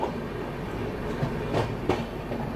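Rajdhani Express train hauled by a WAP-7 locomotive, heard from on board as a steady rumble of wheels on rails, with a couple of brief louder rail joint clacks partway through.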